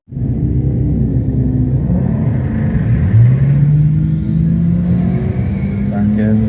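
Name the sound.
BMW drag racing car launching at Santa Pod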